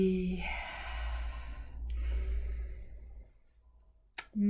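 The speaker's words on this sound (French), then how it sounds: "on va prendre 3 grandes respirations bien profondes" Long, deep breaths taken during a guided meditation, heard as slow, audible sighing exhalations close to the microphone, ending with a soft click.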